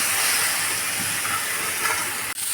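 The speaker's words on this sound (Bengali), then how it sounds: "এভাবে আমরা নেড়ে চেড়ে একদম ভাজা ভাজা করে নিব ভাজিটাকে।" Okra fries in hot oil in a Bangladeshi-style bhaji while being stirred, a steady bright sizzling hiss that fills the whole moment with faint scraping underneath and no talk.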